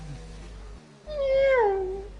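A person imitates a cat, giving a drawn-out, wavering meow that rises and then slides downward, heard alone against a low steady hum.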